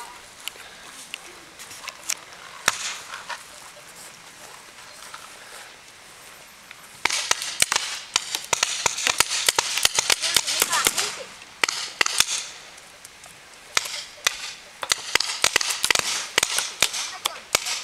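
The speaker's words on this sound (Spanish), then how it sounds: "Te están disparando por tu izquierda" Paintball markers fire during an outdoor paintball game, sharp popping shots scattered sparsely at first and then in dense rapid bursts, with voices calling out in the background.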